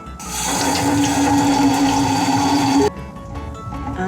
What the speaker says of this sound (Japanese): この栽培ブロックを水洗いしていきたいと思います。